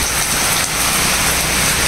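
Heavy rain pours down near the coast in the Konkan, a loud, dense, continuous hiss with no pauses.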